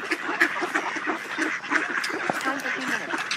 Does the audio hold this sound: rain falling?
no